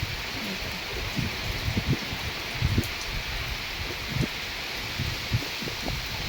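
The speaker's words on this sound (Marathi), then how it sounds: "हे बघा वाढला पाऊस" Rain falling steadily outdoors, a continuous broad wash of patter with occasional soft low thumps and drips, moderately loud and unbroken.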